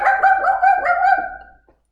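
Bark-like yips from a voice imitating dogs, part of a children's story told in a family setting; a rapid string of short, close, fairly loud yaps over about a second and a half, fading at the end.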